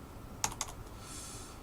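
Keys are tapped on a computer keyboard while entering Linux commands, giving two or three quiet, quick clicks close by in a hushed room, followed by faint hiss.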